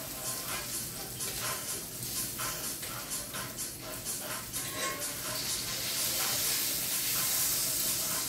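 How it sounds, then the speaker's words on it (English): Scallops hissing and sizzling steadily in a hot pan, a continuous close crackle that grows slightly louder toward the end. "I'm going to put these scallops in my pan."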